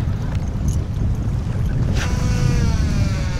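Strong wind rushing over open ocean water aboard a boat, a steady, loud broadband roar with wind buffeting the microphone and faint water wash beneath, no voices.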